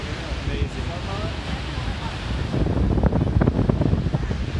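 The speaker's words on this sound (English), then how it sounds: "It's really windy, isn't it?" Strong wind buffeting the microphone at the Lower Falls lookout above the Grand Canyon of the Yellowstone, a steady broadband roar that swells louder in the second half, with people talking underneath.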